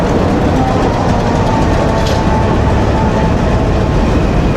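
Millat Express, a Pakistani passenger train, rumbles past at close range with a loud, continuous low roar and steady rail noise, no voices over it.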